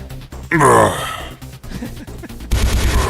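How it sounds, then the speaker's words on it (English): Minigun fire in a video game, a loud burst of rapid gunfire that surges and fades, followed by a second harsh volley near the end, with a voice murmuring in between. "Minigun, I love that. And the sound is just too loud."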